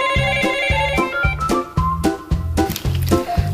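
A telephone rings at the Muhak Market delivery service call center: an electronic ringtone repeating in a quick, steady pattern, close and loud, with nobody talking.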